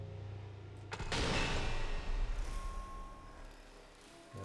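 Gunshots fired in a zombie shooter video game: one sharp burst near the one-second mark followed by a dense spell of loud game noise, then quieter fading activity.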